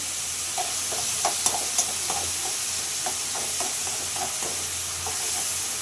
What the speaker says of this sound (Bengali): আমি এটাকে সুন্দর করে একটু নাড়াচাড়া করে দেবো